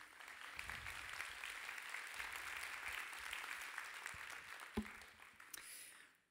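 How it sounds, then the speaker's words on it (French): An audience claps steadily for a speaker at a beach talk event on the future of tourism, a dense sustained applause lasting several seconds before it tapers off, with a few sharper claps near the end. "Je vous demande d'accueillir et d'applaudir Virginie Resson-Victor."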